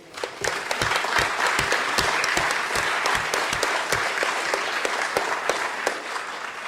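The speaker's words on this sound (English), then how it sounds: "I think that deserves a round of applause." Sustained round of applause from attendees at a Dudley council meeting, many hands clapping steadily and fairly loudly throughout, with sharp individual claps standing out against the dense wash.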